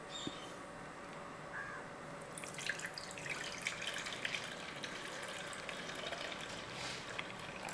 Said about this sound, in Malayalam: ഇതിൻ്റെ തെളി നമുക്ക് ഊറ്റിക്കളയണം